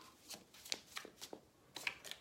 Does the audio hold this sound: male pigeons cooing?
no